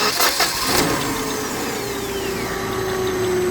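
A Hyundai 2.5L engine with a hard-start problem cranks briefly, then catches and settles into a steady idle with a whirring tone, heard up close and without talk.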